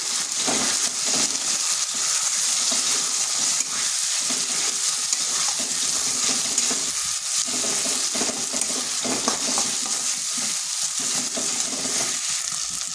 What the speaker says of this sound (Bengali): জিরে গুঁড়ো, ধনে গুঁড়ো, লঙ্কা গুঁড়ো আর হলুদ গুঁড়ো। এরপর মশলাটা একটু কষে নিচ্ছি।